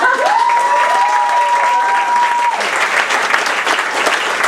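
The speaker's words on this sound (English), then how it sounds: "Let's give him a round of applause." Loud, steady round of applause from a seated audience at a business training school event, filling the whole stretch, with a brief tonal whine early on and faint voices beneath.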